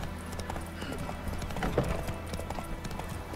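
Horse hooves clip-clopping in The Witcher 3 as a horse is ridden, a steady trotting rhythm close and clear over a low ambient game soundscape, with no speech.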